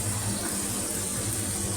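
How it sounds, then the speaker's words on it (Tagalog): Hot water poured into coconut milk while cooking adobo chicken with vegetables in coconut milk, a steady, close, continuous rushing stream with no talk. "Lagyan ko siya ng mainit na tubig."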